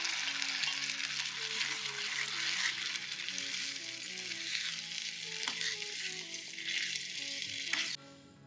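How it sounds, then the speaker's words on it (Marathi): Garden cress seeds sizzle hard in hot ghee, a dense continuous crackle with intermittent stirring scrapes. The sizzle cuts off abruptly near the end, leaving faint quiet. "आता ह्याच तुपामध्ये मी आळीव ऍड करतेय."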